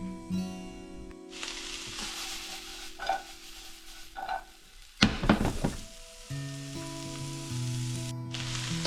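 Garlic sizzling in a hot pan while cooking baked beans, a steady frying hiss with a few clinks and stirring scrapes, alongside a low humming tone that starts and stops.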